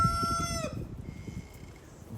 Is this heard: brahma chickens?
yes